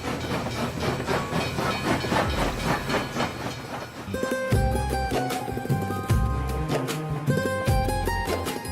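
A train approaching on railway tracks, a loud hissing roar with rapid rhythmic clatter that builds, then music-like tones play over the noise in the second half.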